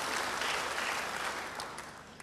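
A church congregation applauds during a sermon, a brief, fairly soft wash of clapping that fades toward the end.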